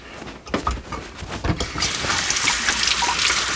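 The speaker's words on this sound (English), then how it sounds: "I'm going to go over here and wash these real quick" Tap water runs into a kitchen sink as carrots are rinsed, a few knocks and handling bumps at first, then a steady rushing stream that fills the rest.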